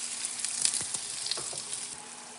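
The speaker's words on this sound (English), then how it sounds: "we're going to place this onion in the pan with some butter" Chopped onion frying in butter in a pan, a close, steady hiss and sizzle with light crackles and soft stirring taps throughout, no voices.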